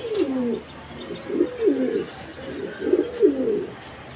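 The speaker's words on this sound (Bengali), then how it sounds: "কালকে আরও দুইটা এনেছে কবুতর, এই জন্য এই খাঁচায় 2 জোড়া রেখেছে" Two pairs of pigeons kept in a balcony cage coo nearby, a series of soft, low rolling calls repeating in an uneven rhythm with no talking.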